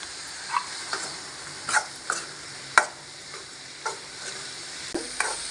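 Curry leaves, salt and a little turmeric frying in hot oil for a masala egg curry, a soft steady sizzle broken by several sharp spoon clinks and scrapes against the pan.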